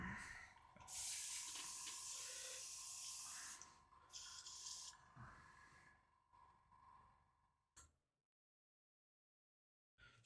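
An airbrush sprays hobby paint on a painting table in a steady, faint airy hiss that stops and restarts in short bursts, then cuts to silence near the end.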